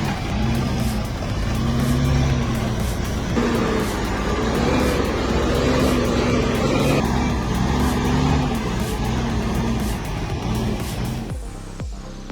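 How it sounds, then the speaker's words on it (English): An old Mack B series truck hauling timber rumbles with a heavy, steady diesel engine drone and shifting low tones under the load, loud and close throughout, with no one talking. "That's pure torque. This Mac B series is decades old and still hauling timber like it's nothing."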